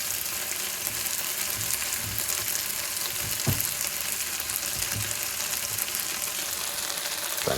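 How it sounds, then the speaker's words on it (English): Butter frying with morel mushrooms in a pan gives a dense, loud, continuous sizzle with a couple of faint utensil knocks. "I think it's about time to add a little bit of butter."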